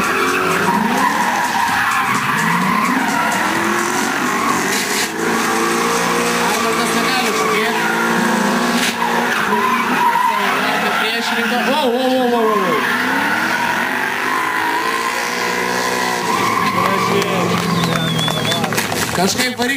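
Rally race cars, including a V8 entry, roar and skid at a drift event in Kaunas, with engines revving hard and tires squealing almost continuously while a commentator talks over the loud, close action.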